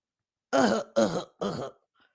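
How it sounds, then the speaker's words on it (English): A person clears their throat three times in quick succession, close and distinct, each rasp about a third of a second long, followed by quiet. "Let me clear my throat"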